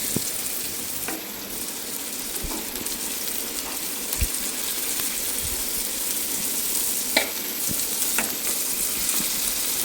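Sardines sizzle in a frying pan with a steady, close crackle that runs throughout. Occasional sharper pops and the clicks of turning the fish break through, with no voices.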